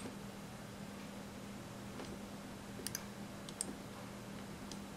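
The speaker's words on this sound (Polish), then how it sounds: "Słychać to delikatne klikanie." Faint, delicate clicks from a switch contact on a Sansui FR-D55 turntable under repair, a few small ticks near the three-second mark over a steady low mains hum and hiss.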